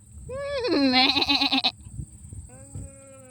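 Sheep at a Wyoming farm bleat in a few wavering, drawn-out calls close by, mixed with a woman's excited greetings and some shuffling noise.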